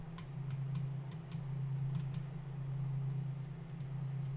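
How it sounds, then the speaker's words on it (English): Computer keyboard typing in quick clustered bursts of clicks, fairly faint over a steady low hum from a game playing in the background. "I hear the profuse sound of typing. Sorry, that's my keyboard."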